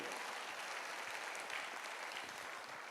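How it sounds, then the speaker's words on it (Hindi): An audience gives Sanjeev sir sustained, dense applause at an AWPL event in India, steady and even throughout with no voices. "तो एक बारी संजीव सर के लिए भी सर दिल से सारे के सारे लोग तालियां बजाएंगे"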